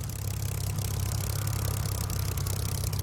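A Rolls-Royce Merlin aircraft engine runs in Microsoft Flight Simulator, a steady, loud droning hum with a constant low rumble and no change in pitch, with no talking over it.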